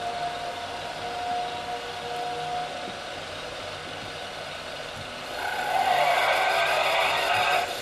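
A 1967 Pontiac GTO, the Albany Buccaneer in GTA 5, drives with a steady engine drone, then revs harder and louder near the end, with no talking.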